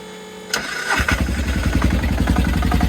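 An engine cranks briefly, then catches and settles into a steady, loud, rapidly thumping single-cylinder diesel idle.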